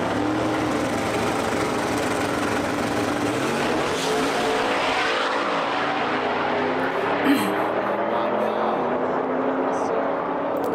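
A full-size single-turbo truck races down a drag strip, its engine roaring continuously and loudly with a rising, sweeping pitch as it accelerates away, a brief sharp bump near the end.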